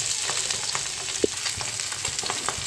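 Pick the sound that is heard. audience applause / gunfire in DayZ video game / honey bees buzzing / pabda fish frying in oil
pabda fish frying in oil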